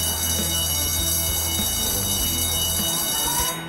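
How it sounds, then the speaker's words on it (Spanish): A continuous evacuation alarm bell rings at an establishment, a loud steady electric ringing that holds without pause before fading at the end. "Para la evacuación externa vamos a funcionar con un timbre o campana continuo"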